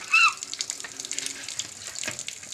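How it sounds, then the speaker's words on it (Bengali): Water poured out of a vessel during village-style outdoor cooking, a brief splashing gush near the start followed by quieter trickling and faint clatter at moderate distance. "জল একটু ফেলে দাও"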